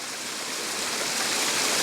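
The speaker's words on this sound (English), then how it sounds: "get the small waterfall and the trickles coming down" A small waterfall and trickling stream at Glen Lednock in Scotland give a steady, close wash of rushing water, with no voices.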